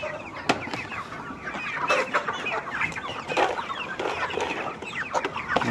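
A flock of tiger chickens clucks steadily while feeding on fermented corn, with many overlapping close clucks and short squawks and no talk.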